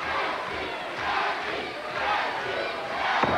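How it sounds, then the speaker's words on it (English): A wrestling arena crowd at a WCW Saturday Night tag match chants in unison, a loud rhythmic roar rising and falling in repeated waves across the hall. "The chant of nasty from this crowd on hand."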